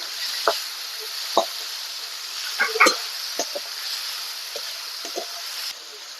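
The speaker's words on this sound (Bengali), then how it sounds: "সামান্য লবণ দিয়ে পেঁয়াজটাকে আমি একটু ভেজে নেব" Onion fries in a pan of caramelized sugar with a little salt for a rohu fish and potato curry. A steady bright sizzle runs throughout, broken by several sharp spatula scrapes and taps.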